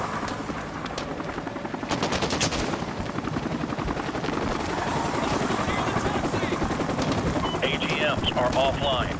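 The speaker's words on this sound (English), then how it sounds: "Take down that helicopter." Helicopter rotor chopping during a firefight in Modern Warfare 2 Remastered, set in a Russian invasion of U.S. soil, heavy and continuous beneath bursts of machine-gun fire and gunshots, with voices calling out over the din.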